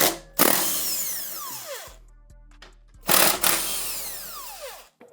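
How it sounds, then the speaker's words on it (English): A power tool zips off 15mm bolts on a car suspension, two loud whirring bursts up close, each revving up and winding down, separated by a brief pause with faint clicks. "we gotta remove these 15mm bolts"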